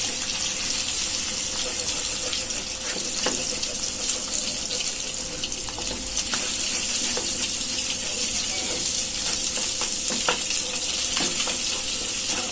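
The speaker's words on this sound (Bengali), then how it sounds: "আমি ডিমটা সুন্দরভাবে ভেজে নেব, এমনভাবে ফ্রাই করব যাতে সুন্দর হয়" Egg frying in oil in a pan, a loud continuous hiss and crackle that holds steady throughout with a few faint clicks.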